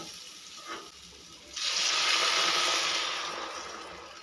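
Water is poured into a pan of frying soybean chunks and potatoes cooked with spices, giving a loud, steady hissing rush that starts abruptly and then slowly eases off, with no talking.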